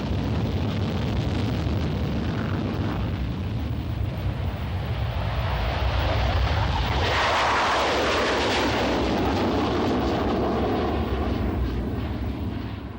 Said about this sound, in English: First flown in August 1986, the EAP is powered by 2 RB-199 engines